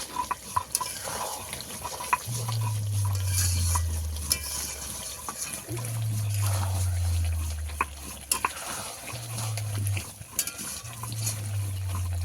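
Chicken skin gets stir-fried in released oil with a steady frying crackle and sharp utensil taps, broken by repeated low droning hums sliding downward in the background.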